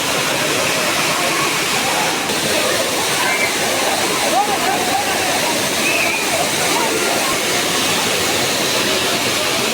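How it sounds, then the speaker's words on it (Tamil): Rushing water roars steadily at Old Courtallam waterfall during a sudden surge in flow, a loud continuous broadband wash filling the whole clip with faint voices of fleeing tourists mixed in. "பழைய குற்றாலம் அருவியில் திடீர் நீர்வரத்து அதிகரிப்பால் குளித்துக் கொண்டு இருந்த சுற்றுலா பயணிகள் ஓட்டம் பிடித்தனர்"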